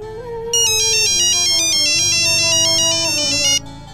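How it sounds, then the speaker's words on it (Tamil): A phone ringing loudly with an electronic melodic ringtone, a bright repeating tune that plays for a few seconds and then stops. "பாருமா, மணி கூட அடிக்குது பாருமா"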